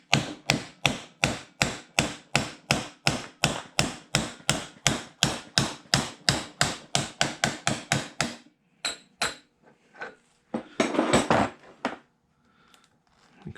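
A hammer drives a drift tool to tap a bearing out of a bicycle hub: about two dozen sharp metallic strikes in an even, brisk rhythm, close by, followed by a few seconds of quieter handling clatter.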